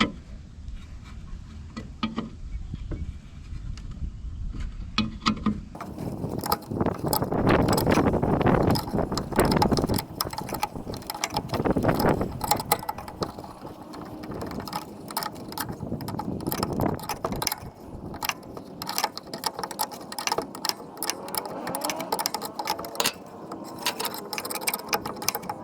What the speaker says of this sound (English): I can see that this bolt isn't turning, which means the nut's undoing